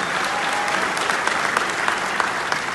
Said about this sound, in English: please applaud the kids